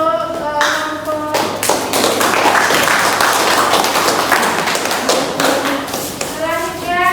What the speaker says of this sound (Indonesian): Baik, beri tepuk tangan untuk kelompok.